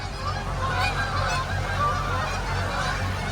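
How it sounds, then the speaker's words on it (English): A large flock of geese passes in Iowa on a sunny day, a dense continuous chorus of overlapping honks from many birds, steady and moderately loud outdoors. "there's a bunch of geese everywhere I go"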